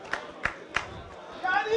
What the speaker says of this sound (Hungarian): Pár ember ezt tapsal jutalmazza.